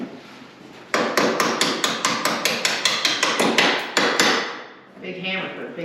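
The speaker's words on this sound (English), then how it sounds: "Big hammer for a big project. This is garden hammer." A big garden hammer strikes metal about fifteen times in a steady, ringing rhythm, each blow loud and close with a sharp attack, followed by a brief pause and softer handling clatter.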